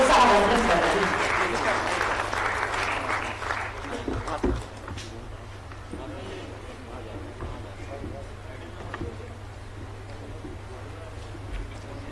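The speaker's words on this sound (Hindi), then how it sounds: "एक बार जोरदार तालियां होनी चाहिए माननीय मुख्यमंत्री जी से" Audience applause at a government welcome ceremony in Jharkhand honouring Tokyo Olympic athletes: loud, dense clapping for the first few seconds, then fading to scattered claps as a voice on a loudspeaker continues.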